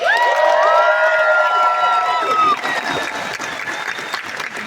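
A large outdoor concert crowd at Freedom Hill in Sterling Heights, Michigan applauds and cheers loudly for the opening act, with shrill whoops riding over the clapping early on before the noise settles into steady applause.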